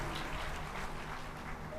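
An audience at a Shri Krishna katha in Vrindavan applauding to welcome the speaker, a dense continuous patter of clapping throughout.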